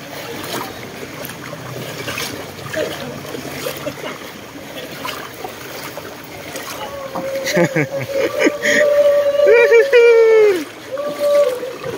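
A rowboat moves through deep flood water in a Cavite street with steady sloshing and splashing close by, while voices talk over it.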